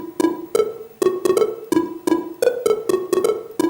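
A chiptune soft synth patch with a square-wave LFO jumps hard between two pitches, giving a choppy, stuttering rhythm of short bright blips in a quick, uneven pulse, close and alone with no voices.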